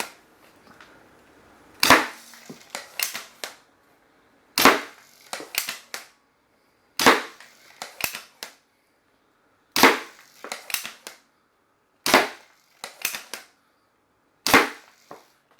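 Homemade Nerf blaster firing foam darts at a box, six sharp loud snaps spaced about every two to three seconds, each followed by quick rattling clicks of the mechanism and dart hits.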